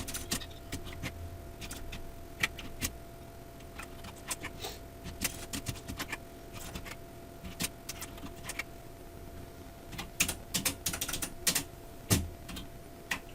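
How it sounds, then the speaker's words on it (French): Rapid clacking of a computer keyboard as table text is entered into a PowerPoint slide, with irregular bursts of keystrokes and brief pauses, close and clear with no talking. "Donc je continue à saisir"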